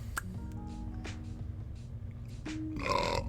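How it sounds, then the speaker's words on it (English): A few low, gurgling burps rise at a hobby night, close and fairly loud, with a steadier rumble building toward the end. "Pardon for the burping."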